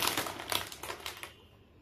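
A bag of chili lemon potato chips crinkles and crackles in a run of close, dry rustling bursts, then goes quiet, with no one talking.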